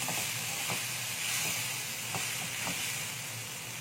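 Cumin seeds hitting hot oil for poha: a steady close sizzling hiss with a few soft clicks and taps of a utensil, moderately quiet, with no talking.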